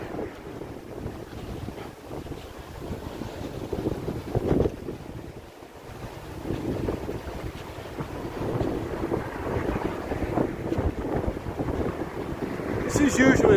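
Strong night wind buffets the microphone in a steady, loud roar along the Las Vegas Strip, rising and falling in gusts with brief lulls, while a person talks intermittently beneath it.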